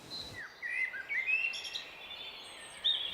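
Small birds chirping and calling in the Bohemian Forest, a few thin, high tweets and short trills at moderate distance over a quiet woodland background.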